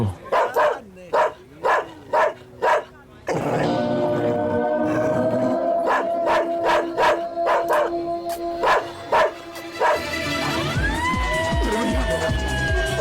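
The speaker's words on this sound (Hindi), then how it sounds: "अरे भैया, इसका कुत्ता है ये। अरे भैया, भैया, कुत्ते को रोको भैया।" A dog barks in rapid sharp bursts, loud and close, first in an evenly spaced series and then again over a sustained background of music and siren-like tones, with people briefly heard.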